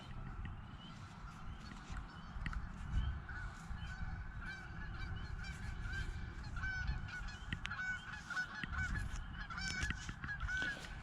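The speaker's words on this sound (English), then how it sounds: "Got a bunch of angry geese" A flock of geese in a field honking repeatedly at a distance, loud irregular calls overlapping over a low outdoor rumble.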